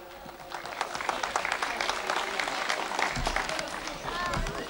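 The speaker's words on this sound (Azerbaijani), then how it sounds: "Alqışlarımızla qarşılayaq" An audience at a kindergarten event in Samux claps to welcome the kindergarten director, a steady patter of applause that builds and holds, with voices murmuring underneath.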